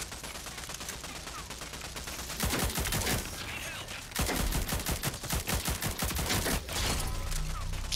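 Rapid bursts of automatic gunfire from the shooter video game Rogue Company, dense volleys starting around two seconds in and pounding almost continuously to the end, loud and close.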